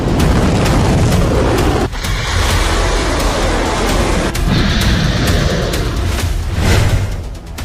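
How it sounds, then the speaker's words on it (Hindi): Iranian Zulfiqar missile explosions over Israel come as a dense, continuous roar of booms and rumbling blasts, loud and heavy throughout with occasional sharper cracks. "इजराइल में ईरान की जुल्फिकार मिसाइलों के धमाके"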